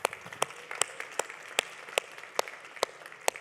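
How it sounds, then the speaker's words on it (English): Audience applause for two speakers at a conference session: sparse, evenly spaced claps, fairly faint and distant, repeating at a steady rhythm. "Let's give Nate and Ian another round of applause."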